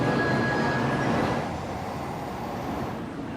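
A Shinkansen bullet train at a station in Hiroshima gives a broad, steady rushing roar with a thin high squeal early on, then settles into a softer continuous rumble.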